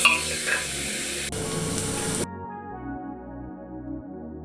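Onions stir-fry in a pan toward golden brown, a brief sizzle with stirring and a sharp cut partway through, before the frying gives way to steady tonal music.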